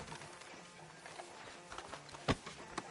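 Horse hooves clip-clop at a walk in Red Dead Redemption 2 on a town street outside a sheriff's office, a soft steady rhythm under ambient noise, with a sharper knock near the end.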